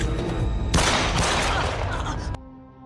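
A burst of rapid gunfire from a film erupts loudly, sustained for over a second and a half, then cuts off abruptly into low background rumble.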